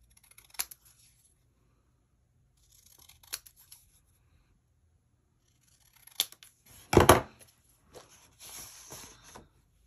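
Scissors trim paper for a scrapbook page in short, crisp snips spaced apart, then a louder burst of cutting and rustling paper handling toward the end, close and otherwise quiet.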